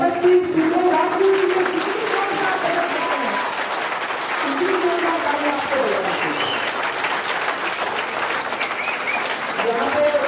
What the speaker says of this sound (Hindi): एक बार जोरदार तालियां हमारे लिए नहीं, भगत सिंह, राजगुरु,